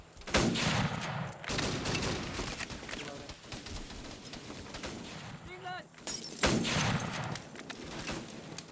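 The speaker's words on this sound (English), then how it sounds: "Alpha, keep with the suppressive fire." Sustained gunfire in Arma 3, a dense wash of rattling shots and booming reports that runs throughout, with brief sharper bursts and a short whistling tone partway through.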